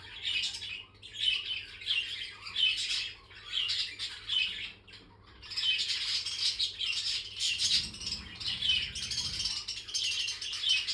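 Pet birds in a home aviary squawking and chirping in rapid busy bursts, close and continuous, with brief flutters of wings and no talking.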